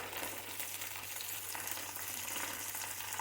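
Okra (ladyfinger) fries in a pan, giving a soft, continuous sizzle with faint crackles, steady and fairly quiet with no talking.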